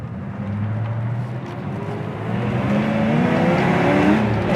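A 1983 Ford Mustang GT Fox Body accelerating from inside the car, a steady engine drone rising in pitch and loudness as the revs climb, with road and wind noise underneath.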